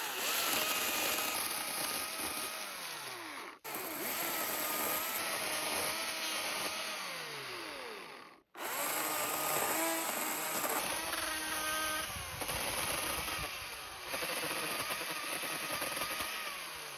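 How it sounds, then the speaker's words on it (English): A chainsaw buzzes loudly and steadily, its pitch bogging and rising as it cuts hazel stumps, pausing twice briefly before revving back up. "we'll make quick work of those with the chainsaw"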